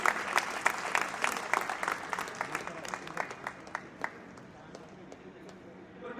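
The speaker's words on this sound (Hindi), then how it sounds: "जोरदार तालियों से स्वागत कीजिए" An audience claps at a court felicitation ceremony, brisk applause that starts dense and loud, then thins into scattered claps and fades toward the end, with voices speaking over it.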